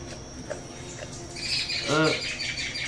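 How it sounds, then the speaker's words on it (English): Tropical birds, among them a female green honeycreeper, give short squawks and chirps close by; a brief tonal call rises over a busy, cluttered background. "The green honey creeper. Tropical birds."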